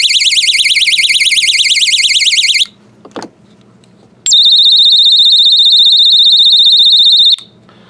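Super loud perimeter tripwire camping alarm blaring a shrill, rapidly pulsing high tone for a few seconds, then a brief pause with faint handling clicks, then a second sustained piercing blast that cuts off abruptly.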